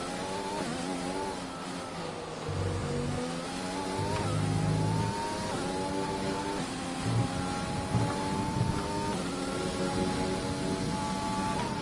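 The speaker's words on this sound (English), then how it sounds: "I can hear the Red Bull coming." In an F1 video game, a Red Bull Formula 1 car approaches, its high engine whine rising and revving over a constant car-noise bed.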